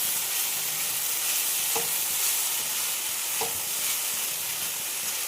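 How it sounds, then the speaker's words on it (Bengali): Potatoes and cauliflower fry in a little oil in a pan, giving a steady, close sizzle with two brief knocks of stirring. "আলু ভাজতে বসিয়েছি, আলু আর ফুলকপি।"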